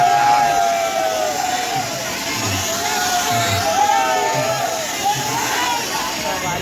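Steady crowd murmur at a Dussehra fair, a broad continuous babble of many voices, with a whining tonal sound drifting over it, loud and close throughout.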